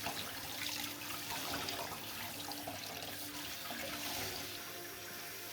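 Tap water runs steadily as a whole napa cabbage is rinsed under it, a close, continuous splashing hiss with gentle shifts in texture as the leaves are turned, with no voices.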